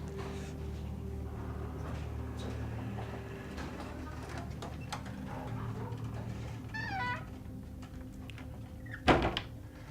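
A ship's door opens and closes on the way into the Grande Chambre, the navigation room. A squeak is followed near the end by a single sharp thunk, over a steady engine-like drone, with a voice speaking nearby.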